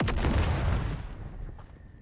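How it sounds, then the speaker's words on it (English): A single explosion bursts in Dune: Awakening, a loud, close boom with a deep rumbling body that decays over about two seconds into quieter ambience. "Well, that was an explosion"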